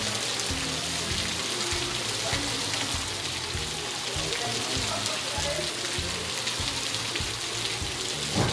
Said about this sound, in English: Dude does not care about the rain, wind, or even a literal hurricane.